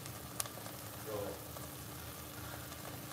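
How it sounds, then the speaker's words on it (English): Onions sizzling in a pot of oil for homemade Italian marinara sauce, a soft steady crackle and hiss close by, with a brief clink near the start and no talking. "Observe and hear till the sizzling goes down"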